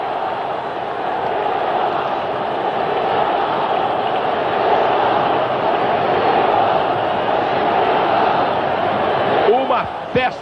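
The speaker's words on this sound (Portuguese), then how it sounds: "Uma festa da torcida rubro-negra." A crowd of Flamengo fans roars at the Maracanã after a Zico goal in the 1986 state championship. The steady stadium cheer holds throughout under a commentator's voice.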